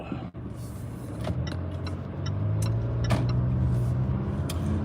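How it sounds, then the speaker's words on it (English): A car pulls away after being shifted into drive, its engine and road noise rising from a quiet start into a steady, close hum with a few faint clicks and no talking. "let me put this car back in drive"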